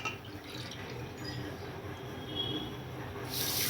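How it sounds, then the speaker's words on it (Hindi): Water from a bowl is poured into a pan with sugar to make syrup for balushahi, a soft continuous trickle and splash close by, fairly quiet, with no talk. "1 कटोरी पानी डाल रही हूँगी।"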